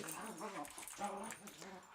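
A dog whimpers and whines in high, wavering cries over a steady indoor background, with a thin voice-like edge to the sound and no clear speech.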